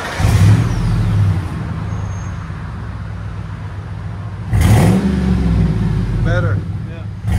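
Ford F-Series pickup with a 5.4L Triton V8 and Flowmaster Super 10 exhaust rumbles at idle and then revs in a loud burst, with background voices faintly heard.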